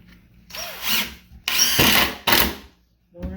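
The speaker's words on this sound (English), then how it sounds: "I'm just screwing the piece of OSB to it." A power drill drives screws through an OSB board into a 2x4 while building a chicken brooder, heard as three close, loud whirring bursts with brief pauses between them.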